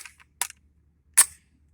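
A CZ P09 full-size 9mm pistol being loaded gives a few sharp metallic clicks and a louder clack as the slide or magazine seats, close and isolated in near silence.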